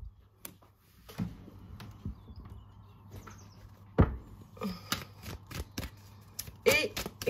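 Oracle cards handled, shuffled and drawn during a reading, giving soft scattered riffles and taps with a few sharper snaps, close and fairly quiet over a low steady hum.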